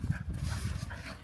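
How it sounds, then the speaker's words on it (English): An excited dog pants rapidly and steadily outdoors in a backyard, close to the microphone, with continuous short breaths and no speech. "I'm watching my dog go crazy"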